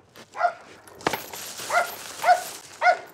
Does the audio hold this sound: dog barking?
yes